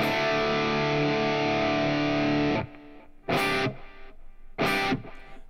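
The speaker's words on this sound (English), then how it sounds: "here's our crunch sound." Electric guitar played through a crunchy overdrive tone on a Line 6 HX Stomp effects unit: a loud sustained distorted chord rings for about two and a half seconds, then two short, sharp strummed chord stabs follow, with no talking.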